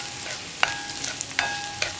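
Chillies being stirred and sautéed in an iron pan for kondattam mulaku chammanthi, soft sizzling with a few scraping stirs against the metal, quiet and close.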